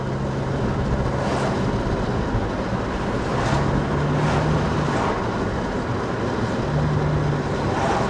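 A cheap JDM car with a rough automatic gearbox drives along, giving a steady broadband road and wind rumble with faint low whining tones from the drivetrain and no talk.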